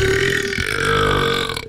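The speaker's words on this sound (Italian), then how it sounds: "un rutto finale al signore che ha appena parlato" A single long, loud burp from a professional burper, resonant and sustained for well over a second with no talk over it, fading at the very end.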